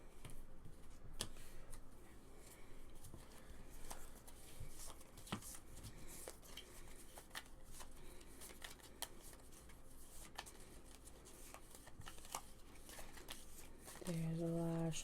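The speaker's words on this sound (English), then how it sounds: "There's a lot of shuffling to do." Cards being shuffled for a Pandemic Legacy Season 2 board game session, a soft, steady riffling texture with scattered ticks and taps running throughout, close by and moderately quiet, with a brief louder rustle at the end.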